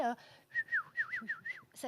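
A person whistles in imitation of a marmot's springtime love call, a series of short, bright, bird-like rising and falling notes repeated about six times in quick succession, with a brief voice sound at the end.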